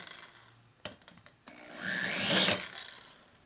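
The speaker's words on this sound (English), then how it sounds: "Carbide burr, 1/2 inch, works perfect." A half-inch carbide burr grinds slowly along the edge of a hole on a 1957 Harley panhead head conversion, with a few sharp taps and then a rising, rasping whir of rough cutting.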